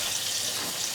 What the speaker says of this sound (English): We're just going to add our stock to this.